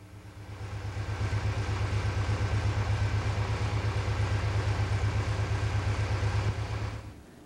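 A Volkswagen Vanagon with Digifant fuel injection idles steadily with a vacuum gauge connected, a low, even rumble with a fast regular pulse that swells in, holds for several seconds, then fades away.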